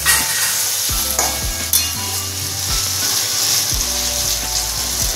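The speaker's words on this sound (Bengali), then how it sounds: "কষাতে থাকবো। মশলাতে তেল ছেড়ে গেছে" Spices sizzle steadily in hot oil in a pan for a squash and shrimp dish, with repeated scraping stir strokes roughly every second over a continuous frying hiss, close and fairly loud.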